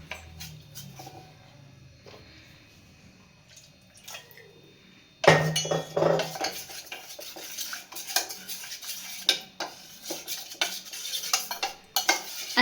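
A cornflour, maida and water batter being mixed in a bowl, with a spoon clinking and scraping against the bowl in close, irregular strokes that turn louder and busier halfway through.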